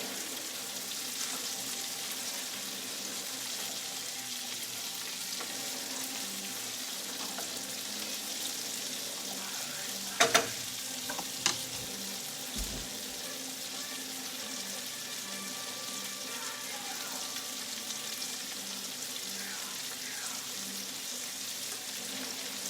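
Ingredients for spaghetti carbonara fry in a pan with a steady, close sizzle that never lets up, broken only by a few brief utensil knocks partway through.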